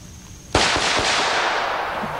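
A pistol shot from a custom handgun bursts loud and close, with sharp echoing reports that trail off into a long reverberant decay.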